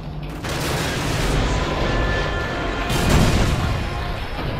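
Missile strike explosions in Call of Duty Modern Warfare 2: a loud, continuous booming rumble with a heavier blast swelling near the middle, with no talk.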